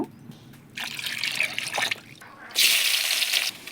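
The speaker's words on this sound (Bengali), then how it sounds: "ওই জন্য আলুগুলোকে ভালোভাবে কেটে নিয়েছি। এখন আমি ধুয়ে নেব।" Cut potatoes are rinsed by hand in water before being cooked with meat over a clay stove, giving bursts of splashing and trickling, quiet at first and then louder and steadier near the end, with no talk.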